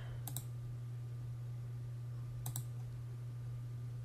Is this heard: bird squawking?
no